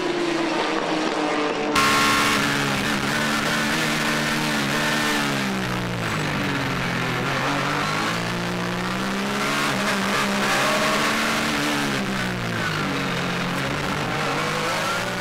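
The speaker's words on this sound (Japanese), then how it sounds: "こちらはトップを走るアキラの NSX。 2位も NSX だけにポテンシャルはほぼ同等。" Honda NSX race cars howl past in an All-Japan GT Championship 1999 race, engines loud and continuous with rising and falling pitch as they pass close by.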